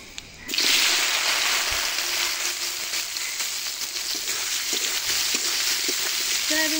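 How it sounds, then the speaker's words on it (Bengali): Soya chunks and potatoes dropped into hot oil with panch phoron, a sudden loud burst of sizzling that settles into a dense, steady crackle with occasional stirring clinks. "সয়াবিনকে আগে একটু ভেজে নেব।"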